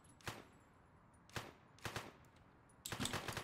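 Video-game gunfire in One-Armed Robber: three separate sharp shots, then a quick rapid burst at the end, quiet overall with silence between shots.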